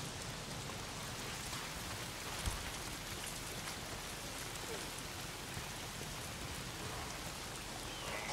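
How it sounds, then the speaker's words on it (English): Steady, dense rainfall in the video game Days Gone hisses continuously with soft scattered drops, uniform and enveloping throughout. "So this is raining."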